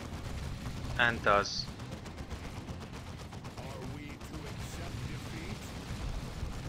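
A defensive turret fires at oncoming spore mines in Dawn of War 2: Retribution, a burst of rapid gunfire and impacts amid steady battle noise, with a commentator talking over it.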